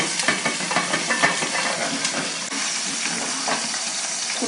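Jalapeño peppers are stir-fried in a pan for a Korean side dish, giving a loud, continuous sizzle and hiss with irregular scraping stirs throughout, and no voices.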